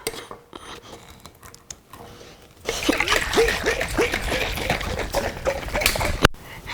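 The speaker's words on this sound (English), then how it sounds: "now we put the cover on, and then we're gonna mix it up" Drink powder from two packets shaken in a covered container for ice pops, a loud continuous rattling slosh and splash that starts partway through after a quieter stretch and runs to the end.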